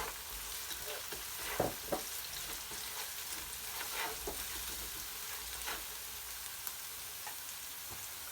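Grated garlic and ginger fry in oil in a pan, giving a continuous soft sizzle close by, broken by occasional light scrapes and taps as the mixture is stirred.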